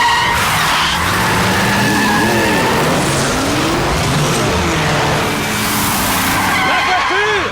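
A car in a cartoon police comedy skids with screeching tires and roars away, loud and continuous for several seconds with repeated squeals and engine revving, mixed with excited voices.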